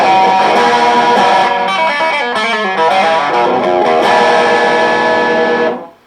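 Electric guitar through a distortion amp, a Laney 308 cabinet, loud chords and notes played continuously, then cutting off abruptly at the end.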